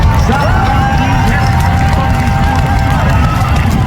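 A large crowd roars continuously at a chuckwagon race at the Strathmore Stampede, loud and unbroken, with an announcer's excited commentary running over it.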